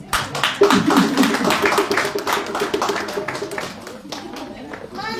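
Applause for Samuel at a French church youth and children's service, a crowd clapping briskly and closely, with voices talking underneath as it tapers off.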